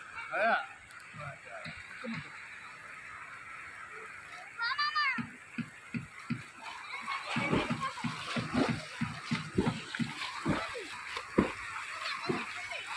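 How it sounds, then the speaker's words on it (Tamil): A waterfall near Pollachi, close to the Kerala border, gives a steady rushing wash of water with splashes. Children's voices and chatter carry over it throughout. "அப்படியே தண்ணி வந்து இப்படி உழுகிற இடம்"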